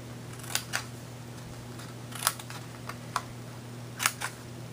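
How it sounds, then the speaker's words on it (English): Scissors snip triangles out of scored paper in a series of crisp, close cuts, a few single snips and quick double snips spaced irregularly over a steady low hum. "what I'm going to do is simply snip out each one of the triangles all the way around the piece of paper"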